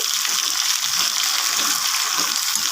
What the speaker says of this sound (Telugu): అల్లం వెల్లుల్లి పేస్ట్ కూడా ఇందులోనే వేసేసుకొని బాగా ఫ్రై చేసుకోవాలి